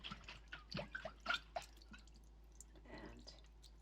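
Water drips and trickles as soaked, slightly sprouting moong beans are drained, with a quick run of small splashes early on that thin into scattered faint drops, close and quiet with no talking.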